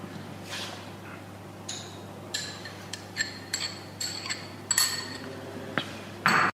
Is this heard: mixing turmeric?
yes